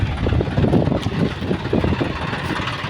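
A John Deere 44 HP 5042D tractor engine runs close by during rotavator work in a castor field, a steady throbbing diesel rumble with a faint pulsing rhythm and no voices.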